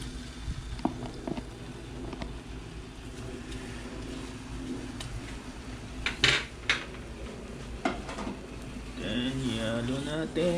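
Sticky ube kalamay being stirred in a non-stick pan, with clattering utensil scrapes and knocks against the pan scattered through, plus a soft bubbling texture near the end.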